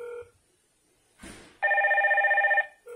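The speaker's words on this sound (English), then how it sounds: "Now our phone is ringing as well." A Hikvision IP intercom call rings through on a phone app: a short electronic tone, a brief rustle, then a sustained warbling ring lasting about a second before the tone returns.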